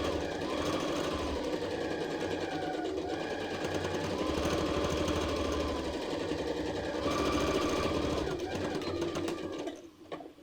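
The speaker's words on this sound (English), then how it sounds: "we're going to overlap and back stitch our stitches so that they connect" A sewing machine stitches a tie headband, its motor running in a fast, steady mechanical rattle up close for several seconds, slowing briefly mid-way before stopping near the end, with a voice talking over it.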